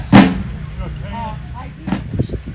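A gun fires once on command at a Fourth of July celebration: one loud close bang opens the sound, then voices talk and a few thumps and shuffles follow.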